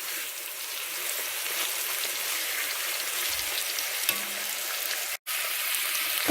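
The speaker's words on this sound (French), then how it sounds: "Je les fais dorer de chaque côté. Il ne faut pas que ça colle" Chicken breasts browning in a frying pan make a dense, even sizzle heard close and alone, broken near the end by one brief clatter and a momentary drop as the pan is shifted.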